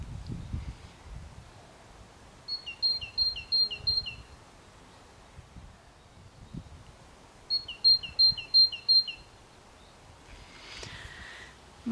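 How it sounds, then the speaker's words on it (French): Small birds sing in short repeated bursts of high, clipped chirps, two clear phrases against a quiet outdoor background with faint rustling. "Profitez d'un petit moment de calme des oiseaux."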